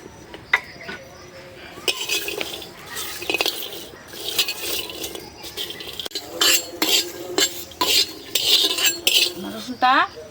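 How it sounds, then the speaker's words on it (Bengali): Garlic fries lightly on a clay griddle, heard as a soft sizzle under repeated metal scraping and clinking stirs that grow busier toward the end. "আজকে একটু রসুন ভাইজা নিব বুঝছো?"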